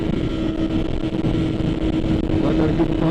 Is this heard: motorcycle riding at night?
yes